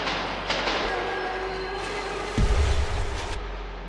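A ghost train rumbles through a dark metro tunnel in the video game Metro 2033. A low, steady mechanical drone and clatter swells into a heavier, louder rumble partway through.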